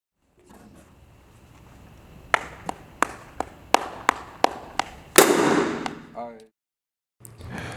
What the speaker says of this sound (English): The tap choke is performed at the same position as an open tap.